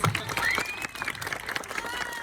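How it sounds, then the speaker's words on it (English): Applause breaks out from the crowd at an elementary school celebration ceremony, with dense, uneven clapping filling the room while voices talk over it. "let's give a round of applause"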